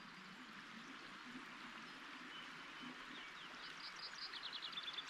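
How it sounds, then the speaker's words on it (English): A Scottish river runs beside a campsite on a calm morning, a steady soft rush of flowing water close by, with faint bird chirps breaking through near the end. "Listen to the sound of that river."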